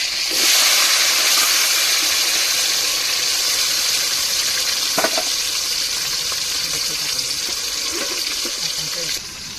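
Onion, tomato and chilli hit hot oil with mustard seeds in a home kitchen pan, giving a loud, steady broadband sizzle and hiss that holds throughout with faint clinks near the end.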